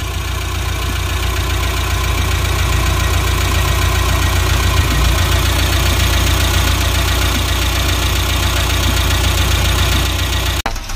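A Suzuki Carry engine, running rough after a piston ring replacement, idles with a steady low rumble and persistent knocking, loud and close, running alone until it cuts off at the end.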